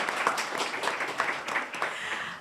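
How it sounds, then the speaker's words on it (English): A conference audience claps, a dense spatter of hand claps rolling on steadily for a couple of seconds with no voices. "clap."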